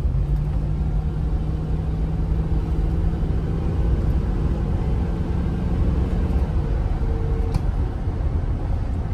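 A Chevy OBS pickup truck's engine drones low and steady while driving, its deep rumble and a sustained hum holding nearly constant throughout, with no voices.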